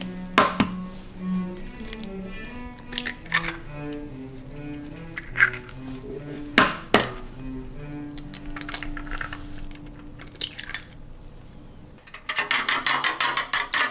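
Two eggs are lightly beaten in a bowl for air-fried sweet and sour pork. Scattered clinks and taps come first, then a quick, even burst of whisking strokes near the end, with faint tonal sounds in the background.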